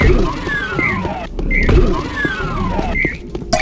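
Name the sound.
video game health pickup sound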